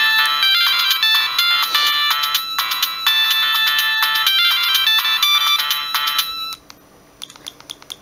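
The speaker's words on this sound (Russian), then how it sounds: "Ну и сама тема Siemens Mobile, она тоже сокращенная тут." Siemens A70 mobile phone plays a shortened Siemens Mobile theme ringtone, a bright electronic polyphonic melody, loud and clear for several seconds, then cutting off abruptly into quiet.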